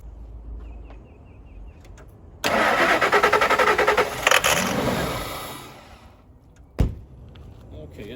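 A 1999 Ford F250 Super Duty pickup, left sitting for nine years, cranks and catches, then runs with a loud, uneven idle that settles. A sharp knock comes late, and voices are faintly present.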